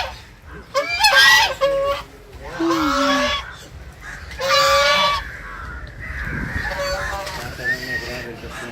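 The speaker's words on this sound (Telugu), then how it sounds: "ఇక్కడ బాతులు చూసారు ఎలా ఉన్నాయో." Ducks at Samudra Beach Resort on Odalarevu Beach give several loud, nasal honking calls in bursts close by, over a noisy outdoor background.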